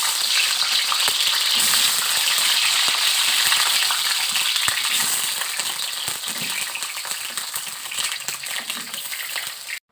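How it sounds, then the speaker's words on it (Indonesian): Garlic and onion fry in hot oil until lightly browned, a loud, dense, steady sizzle with small crackles and pops that eases slightly toward the end, with no voices. "Ini kita goreng sampai agak kecoklatan aja"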